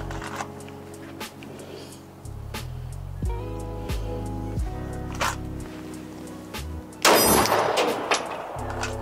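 Handgun shots fired from a concealed-carry draw at a steel target outdoors, several sharp reports spread across the stretch, with a louder burst of impact and ring near the end and faint background noise between.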